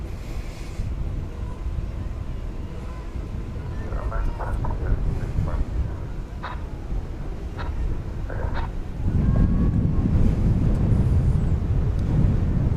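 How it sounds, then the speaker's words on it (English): An airliner arriving as Flight 2317 from LAX, a broad low roar of jet engines that swells louder toward the end, mixed with wind noise and some faint background talk. "Flight 2317 coming in there from LAX"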